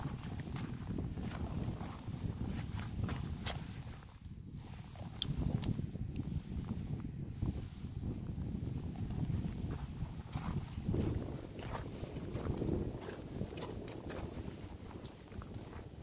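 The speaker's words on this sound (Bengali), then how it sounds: "ঠান্ডা কনকনে হিমালয়ের বাতাস" Cold Himalayan wind rushes steadily past on the icy trail toward Tilicho Lake, a continuous low buffeting roar with rising and falling gusts and no voices.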